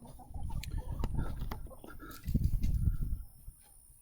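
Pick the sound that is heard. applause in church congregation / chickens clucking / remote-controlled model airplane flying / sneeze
chickens clucking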